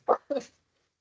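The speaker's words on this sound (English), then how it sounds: "the dog went after the cat" Two quick, sharp dog barks close by, each a short burst, followed by silence.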